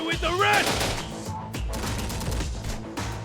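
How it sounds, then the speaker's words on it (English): Grenade blasts and gunfire crash in a Terminator: Dark Fate battle, several heavy booms and bursts in quick succession, loud and close, with a brief voice mixed in. "just throwing grenade after grenade at this guy"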